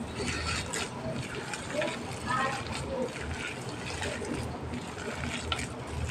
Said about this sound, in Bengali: একদম অল্প পরিমাণ জল এখানে আমি ইউজ করলাম বেশি জল এখানে আমি দিলাম না